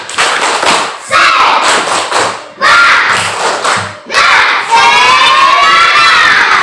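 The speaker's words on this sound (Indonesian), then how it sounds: "kita melakukan tepuk semangat dulu" Schoolchildren in a classroom perform a loud rhythmic clapping chant in short bursts of shouted voices and thumping claps, each burst separated by brief pauses, ending in a longer cheering shout.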